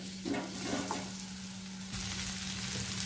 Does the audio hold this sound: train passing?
no